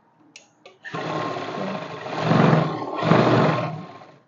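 After a couple of small clicks, a sewing machine starts up and stitches trouser fabric over elastic in one continuous, loud run. The motor swells in speed twice, then trails off, with no voices.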